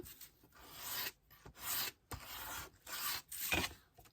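Hand file rasping along a paper edge for a scrapbooking folder: four or five short back-and-forth strokes separated by brief pauses, close and fairly quiet, with no voices.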